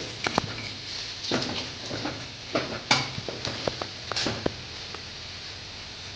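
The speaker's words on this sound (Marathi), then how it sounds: "लसूण पूर्णपणे जळू न देता अगदी कमी गॅसवर भाजून झालेला आहे." Garlic roasting in a pan over very low gas heat before fenugreek greens go in, with soft crackles and light stirring scrapes, intermittent and close, no talk.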